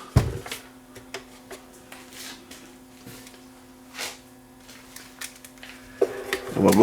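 A Wolverine film scanner powers up and runs, giving a low steady electrical hum broken by scattered small clicks and taps, then a louder buzzing tone near the end.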